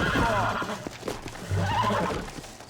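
A horse in the Red Dead Redemption video game neighs loudly in two whinnying bursts, with hoof clip-clops and a person talking over it.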